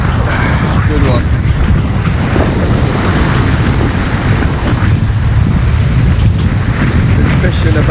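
Heavy wind roaring across a microphone on a boat while fishing for bluefish, a loud, constant buffeting rumble that never lets up, with no talk over it.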